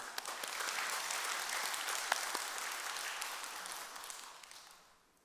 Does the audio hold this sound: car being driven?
no